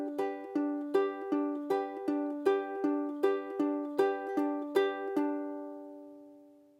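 A ukulele plays a repeating picked pattern, alternating plucked notes in an even, steady rhythm, ringing clearly and closely before the last note fades out.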